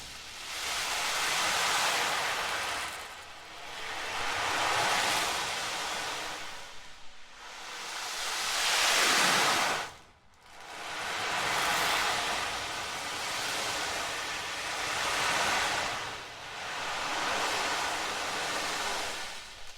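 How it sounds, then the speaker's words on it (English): Tiny beads roll inside a tilted ocean drum, producing a soft, wave-like wash that swells and recedes in slow, even surges, briefly dropping to near silence before rolling again. "you tilt the drum to where the beads will roll and make it sound like the ocean"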